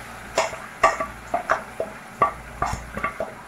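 Chilli peppers dropped into a generous pool of hot oil for a Filipino dipping sauce, giving a run of sharp crackling pops and spits in irregular bursts, close and fairly loud, with no voices over them.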